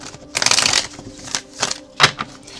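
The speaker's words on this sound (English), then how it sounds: "One more shuffle." A deck of tarot cards is shuffled close up in several quick riffling bursts separated by short pauses, crisp and papery with no speech.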